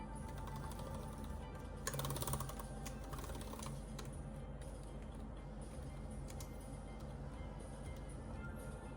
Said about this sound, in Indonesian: Selanjutnya coba tes keyboardnya.